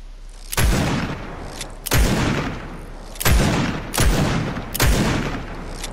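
Five loud, booming shots from a scoped revolver in Fortnite, each a sharp crack with a long decaying tail, fired at a steady pace about a second apart with no talk over them.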